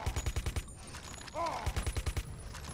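Bullets fired in the fighting game Mortal Kombat vs. DC Universe: two rapid bursts of quick, evenly spaced shots with a brief squealing effect between them.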